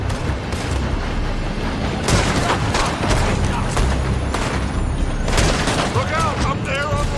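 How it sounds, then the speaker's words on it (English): Dense gunfire from a Red Dead Redemption 2 shootout cracks and booms in rapid, overlapping volleys, loud and continuous, with shouting voices mixed into the fray. "They're shooting from that building!"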